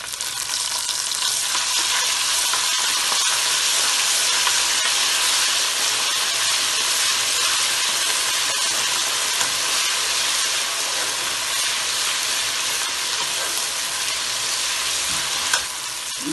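Garlic ginger paste frying in a pan with garam masala for chicken tahiri biryani: a loud, continuous close sizzle and hiss with a few faint spoon scrapes, and no talking.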